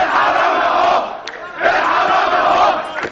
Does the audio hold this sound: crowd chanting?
yes